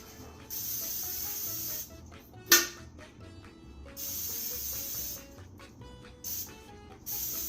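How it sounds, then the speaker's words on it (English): Short hissing bursts of cooking spray from an aerosol can onto a pan, quiet and close, separated by pauses with a brief clatter in between. "I'm gonna spray my pan, spray the base of it."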